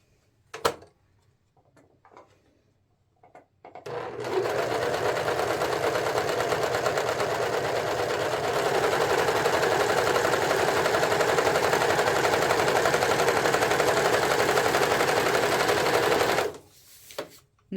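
Serger sewing machine stitching steadily for about twelve seconds, a loud, even, rapid mechanical whir that starts and stops abruptly, with a few faint clicks before and after.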